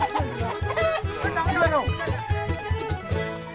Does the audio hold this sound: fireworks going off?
no